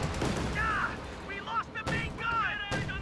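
Flak cannon fire in a video game battle, sharp bursts and booms at close range, with whistling tonal game effects and voices talking over the gunfire throughout.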